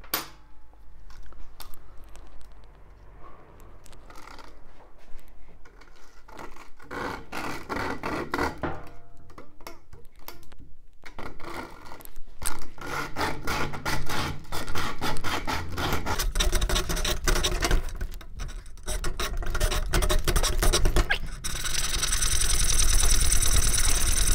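A small hand saw rasps back and forth through wood in quick, uneven strokes, getting louder and busier toward the end, no talking.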